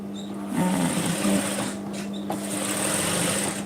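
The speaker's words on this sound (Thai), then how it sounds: "ไม่ต้องยกตีนผีออกนะ เย็บไปเลยนี่ค่ะ ต่อเข้าไปเลยนะค" A sewing machine stitches the neckline and lining of a sleeveless round-neck blouse, whirring steadily up close with a brief slowdown midway before running on.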